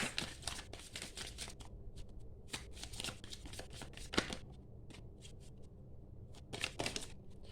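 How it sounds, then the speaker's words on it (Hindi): A deck of tarot cards is shuffled by hand close to the microphone, quiet rapid papery riffles and flicks in uneven bursts with short pauses between, with no talking. "let me shuffle once"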